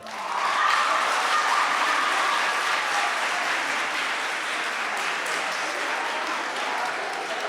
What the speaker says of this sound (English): this audience is not even waiting for me to say a round of applause